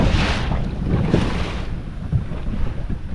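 A boat motor cruising at 4,500 RPM on open water during a crayfishing trip, with heavy wind buffeting the microphone and water rushing along the hull in a steady, loud wash. No one speaks.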